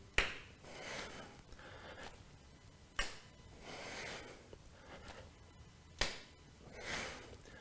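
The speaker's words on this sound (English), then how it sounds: "3 times, high or low, hop and clap your feet." Three sharp slaps of feet clapping together during hops in a vinyasa yoga flow, spaced evenly about three seconds apart, each followed by softer shuffling and breathing, with no talking.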